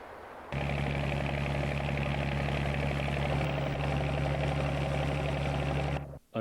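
A locomotive on the Great Central freight line between Rotherham and Tinsley Yard, heard as a steady, loud engine drone with a constant low hum that holds for several seconds before cutting out abruptly.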